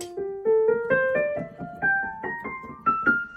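A piano scale rising note by note across multiple octaves, played at a steady, even pace up through the higher register, each key cleanly struck and sustained, close and alone without any talk.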